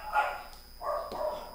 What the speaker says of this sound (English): please don't mind the dogs barking at the background